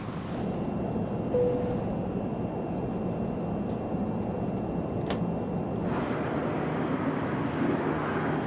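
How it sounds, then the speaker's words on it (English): An airplane taking off or landing at Congonhas Airport gives a steady, loud, broadband roar that holds for the whole stretch and thins out slightly near the end, with no talking. "Planes take off and land here every 90 seconds"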